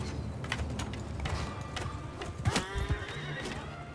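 A horse in the medieval battle game Mount & Blade II Bannerlord whinnies amid battlefield noise, with clip-clopping hooves and sharp impacts toward the end, all moderately loud and without speech.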